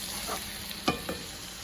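Meat and vegetables cook in a hot pot with a steady, dense sizzle, broken by a couple of soft stirring scrapes, close up.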